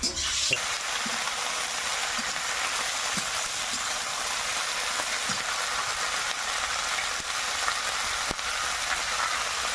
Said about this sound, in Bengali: এপাশে তেলের মধ্যে সিমটা দিয়ে দেবো